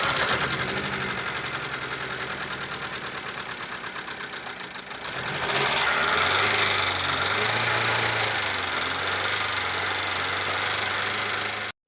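A car engine with tappet noise idles and then revs, a steady mechanical drone carrying a rapid metallic ticking, loud and close, with no talk over it.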